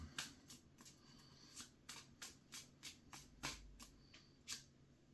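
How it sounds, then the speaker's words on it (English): Tarot cards are shuffled by hand in a series of quick, soft riffling bursts, about a dozen in a steady rhythm, close and quiet with no talking. "give it a shuffle"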